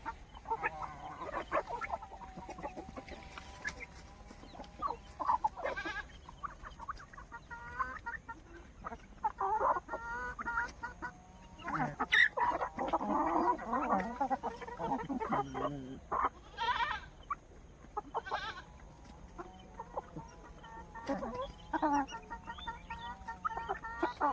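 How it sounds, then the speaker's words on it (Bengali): Roosters and chickens on a rooster-rearing farm in Purulia cluck and call on and off for a long stretch, along with other farm-animal sounds, moderately close and fairly busy. "এটা মনোহরদার মানে মোরগ চাষ বটে"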